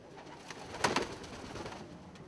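Fancy pigeons, Turner roller breeders among Saxon double-crested birds in a loft, give a soft cooing burst near the middle, heard close but faint over a steady low background hiss with no talk.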